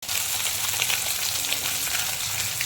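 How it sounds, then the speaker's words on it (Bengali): Katla fish belly pieces frying in hot oil in a home kitchen, a loud, steady crackling sizzle close by with no talking. "এই হচ্ছে মাছ ভাজা হচ্ছে"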